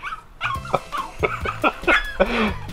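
A dog fed steak, chicken and potatoes barks and yips repeatedly at close range, with short excited whimpering bursts in an uneven rhythm and no talking.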